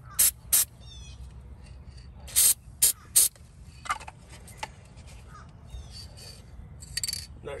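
Corrosion X penetrant sprayed onto the tilt and trim pins of a Mercury 115hp 2-stroke outboard in several short, sharp hissing bursts, some in quick pairs, separated by quiet pauses.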